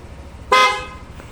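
A single short honk from the stock horn of a Yamaha NMAX V3 scooter, bright and buzzy, sounding once against quiet background noise.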